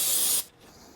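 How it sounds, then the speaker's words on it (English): Brake grease sprayed from an aerosol can onto the brakes of a BMW M3, one loud close hiss that lasts under half a second and then cuts off sharply. "Brake grease."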